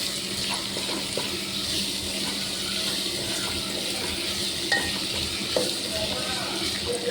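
Spiny gourd pieces frying in a pan for a tamarind curry, a steady soft sizzle with occasional scraping and clinks as they are stirred, moderately close and fairly quiet.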